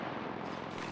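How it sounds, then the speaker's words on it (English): Gunfire in the mobile video game Apex Legends Mobile, a dense, steady burst of shots running through the whole second and ending in a sharp, loud crack. "Shots fired at me."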